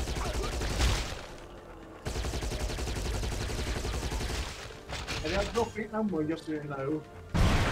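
Gunfire in the video game Giants: Citizen Kabuto, dense rapid shots and loud impacts sounding through much of the stretch, with people talking over the action.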